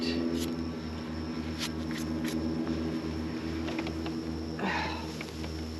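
Honey bees hum around an opened top bar hive during a summer honey harvest: a close, continuous buzzing drone with a pulsing low throb and a few light knocks and clicks.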